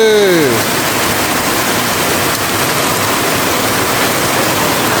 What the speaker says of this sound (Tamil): இங்கே பாருங்க மழையை சரியான மழை அடிச்சு ஊத்துது